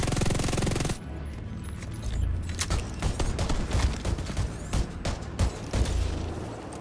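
Rapid bursts of shotgun fire in a berserk-build video game, loud and close, with repeated sharp blasts and booms over several seconds, ending an opening stretch of steady noise.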